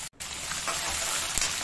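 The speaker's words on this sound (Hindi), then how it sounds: "प्याज को हमने आधा मिनट भून लिया है तेज आंच पे" Finely chopped onions fry in hot oil over high heat with a steady, crackling sizzle close by, broken by a brief pause near the start and an occasional louder pop.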